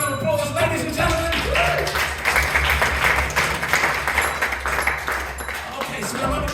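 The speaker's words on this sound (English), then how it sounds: "So give them a big round of applause, ladies and gentlemen." Audience applause at a live comedy hypnotist show, clapping from the crowd that swells and holds steady, with music or tones and some talk mixed in underneath.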